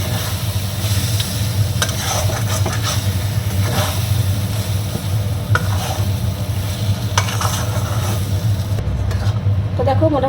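Dal (lentils) is stirred in a pan over a low gas flame, with a spoon scraping in a steady rhythm over a soft, constant sizzle, close by and moderately quiet.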